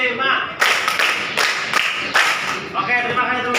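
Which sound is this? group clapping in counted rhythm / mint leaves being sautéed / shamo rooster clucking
group clapping in counted rhythm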